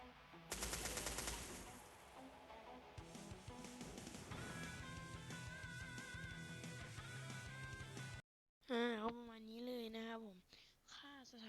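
Rapid automatic gunfire from a weapon skin in a video game, loud and dense bursts with in-game effects for about eight seconds, then cut off before a person speaks.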